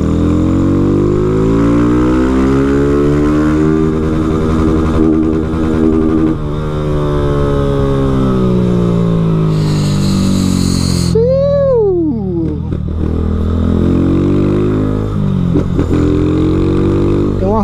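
A Honda Fan 160 motorcycle fitted with a Dore exhaust runs loud and close throughout, its engine note sweeping up and down through revs and gear changes, with a sharp dip and rebound near the end.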